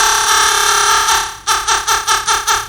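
A synth tone runs through a short delay with the feedback turned up, giving a metallic, buzzy sustain that breaks into a quick series of rhythmic repeating pulses, loud and without any voice.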